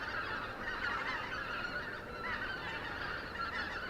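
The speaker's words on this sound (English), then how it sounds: "They do sound like snow geese." A flock of snow geese honks overhead at night, a dense, continuous chorus of overlapping loud calls with no pauses.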